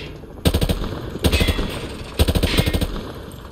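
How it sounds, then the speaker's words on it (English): Automatic rifle sprayed at range targets in Modern Warfare 2 Remastered: three loud, close bursts of rapid fire, each about half a second long, separated by brief pauses, with no talking. "He sprayed bullets all over the damn place."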